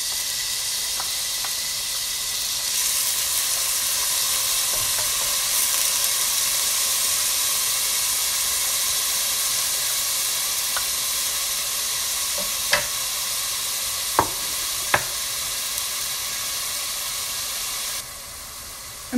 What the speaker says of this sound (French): J'ai chauffé l'huile, maintenant je vais mettre le basal.